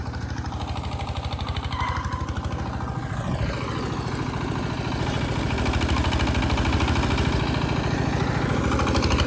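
A tractor stuck in a pit idles nearby with a loud, steady, rhythmic chugging that continues unbroken for about nine seconds, with no talking.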